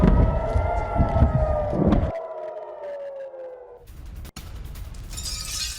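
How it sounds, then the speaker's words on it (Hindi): An air raid siren wails over loud crashing and street noise in the port city of Haifa, Israel, after a rocket attack, its rising-and-falling tone fading out before a sharp bang and renewed rumbling ambience. "एयर रेड सायरन बजते हुए सुनाई दे रहे हैं।"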